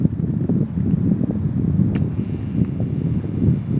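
Wind blows steadily across a lake during a solo canoe trip, a low continuous rushing buffet with a faint knock partway through.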